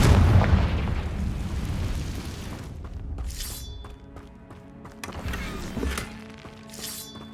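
A Confrigo fire spell in Hogwarts Legacy bursts with a loud, booming blast at the start, then fades into a rumbling, crackling tail with a few sharper shattering hits afterward.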